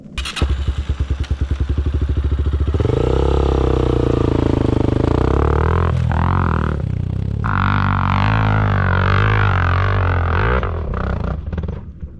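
An Orion RXB250HO motorcycle fitted with a SmartCarb carburettor revs hard and climbs a hill at full throttle, its engine note rising and holding a loud, close, sustained roar with a few thumps and clatters and no talk.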